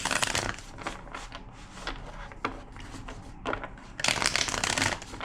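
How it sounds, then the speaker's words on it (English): A deck of tarot cards is shuffled close up in quick papery riffles, with a softer stretch in the middle before a louder burst of shuffling near the end. "Two more shuffles."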